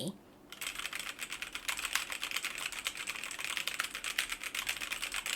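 Fast, continuous typing on a computer keyboard is picked up close by a 7Ryms SR-AU01 USB condenser microphone, a dense rattling clatter of keystrokes that begins after a brief pause and runs steadily to the end.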